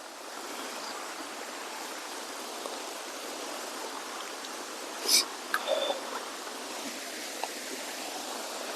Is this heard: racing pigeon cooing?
no